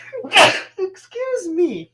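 A single sharp sneeze bursts out close up, followed by a brief spoken phrase.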